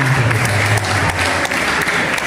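Applause from the audience at an Islamic boarding school education seminar. A short, loud, continuous wash of clapping with a low hum of the hall underneath and no voices over it.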